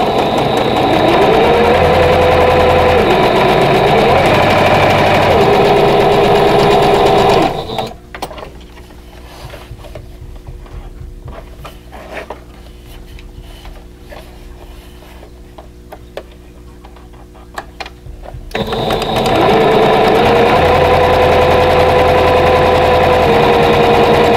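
A sewing machine stitches a vintage Basket of Diamonds quilt block with 50-weight thread at a 2.0 stitch length, running in a steady mechanical rattle for about eleven seconds between louder stretches of other sound.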